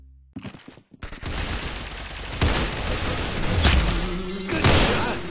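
Sustained rapid gunfire from the Roblox Arsenal video game, dense bursts of automatic shots and booms rolling continuously for several seconds, loud and close.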